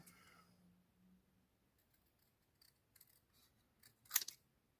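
Faint snips from scissors cutting a paper napkin for decoupage, with a few soft scattered clicks and then one sharper, louder cut near the end, in an otherwise quiet room.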